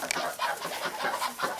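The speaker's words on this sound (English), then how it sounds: "we have a couple of chickens over here" Several chickens in a backyard pen cluck in short, irregular bursts, close and at moderate volume, with no talk over them.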